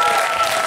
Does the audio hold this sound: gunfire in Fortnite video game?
no